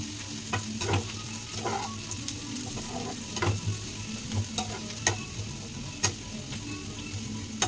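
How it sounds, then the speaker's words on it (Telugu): Onions frying to golden brown for an egg curry, a soft, steady sizzle punctuated by repeated ladle scrapes and taps against the pan, fairly quiet and close with no voices. "గోల్డెన్ కలర్లో ఫ్రై అయినంత వరకు"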